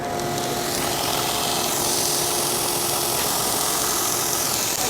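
An SGA grinder runs steadily while taking light cuts, a loud, continuous, broadband grinding whir with a faint underlying hum and no pauses.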